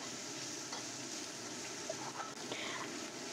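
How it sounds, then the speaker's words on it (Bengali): Dried prawns fry over a low flame in a pan, giving a steady soft sizzle with light scraping and clinking as they are slowly stirred. "এভাবে লো ফ্লেমে আস্তে আস্তে নেড়ে নেড়ে এটাকে ভাজতে হবে"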